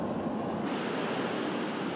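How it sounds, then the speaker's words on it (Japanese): A river upstream of a weir, heard in morning mist while walking toward it: a steady, even rushing of flowing water, moderately distant and continuous, alone without voices. "川が近づいてきた。"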